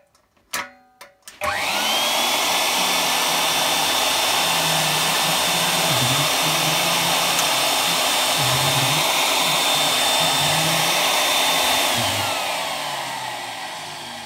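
An old Hoover vacuum cleaner clicks on after a few handling knocks and spins up to a loud, steady whine with a low droning hum. It runs continuously for about ten seconds, then begins to wind down.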